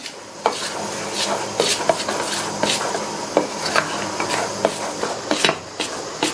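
Idli batter is mixed with salt by hand, giving wet, squelching stirs with sharp taps against a bowl in an irregular rhythm, close and without talking.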